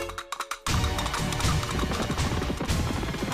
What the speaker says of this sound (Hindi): तुम्हारे घोड़े बहुत सुस्त है।